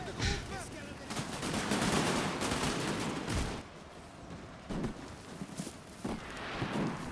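Massed musket volleys and artillery fire from a Napoleon Total War battle, dense rolling gunfire with heavy booms, loud and continuous with brief lulls, no talk.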